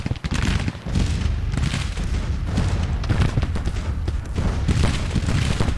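Artillery fire across a Civil War battlefield in Grand Tactician: Civil War, a dense stream of loud booms and crackling volleys rolling on steadily without pause.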